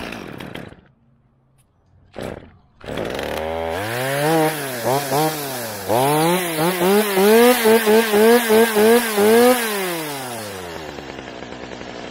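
Power tool trimming a large pine hedge from a towable spider lift, the motor revving up and down in repeated rhythmic bursts as it cuts, loud and close with no talk.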